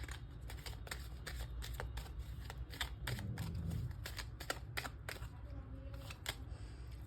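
Tarot cards being pulled from a deck and handled, giving a run of crisp papery snaps and flicks in quick irregular succession over a low background hum, with no talk.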